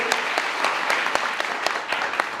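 An audience claps for a teacher who earned a top state teaching-exam rank, at a coaching-class gathering in Rath, Uttar Pradesh; steady, fairly loud applause with a few sharper individual claps standing out, no talk over it.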